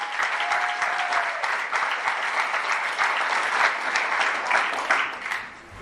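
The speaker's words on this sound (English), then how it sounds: "If you guys could just please give them a round of applause real quick." A convention audience gives the organising committee a steady round of applause, continuous and even throughout before fading off at the very end.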